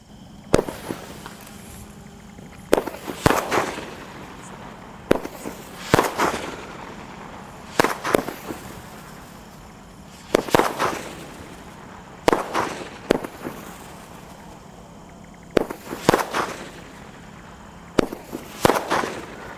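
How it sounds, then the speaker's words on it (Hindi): A twelve-shot sky shot Diwali firework going off outdoors, firing a series of sharp cracks and booming bursts at roughly two-second intervals, loud against a quiet background. "टेस्ट करते हैं ट्वेल्व स्काई शॉट का"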